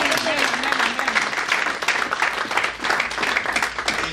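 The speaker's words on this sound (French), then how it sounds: "On peut acclamer pour cette parole." A church congregation applauding, dense continuous clapping close and loud throughout, with a voice briefly heard over it.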